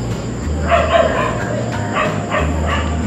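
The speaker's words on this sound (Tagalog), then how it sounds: "Alam mo yung tahol ng asong yan? Yung tahol na yan?" A dog barks repeatedly in short yipping bursts at a moderate distance, over a steady low background hum.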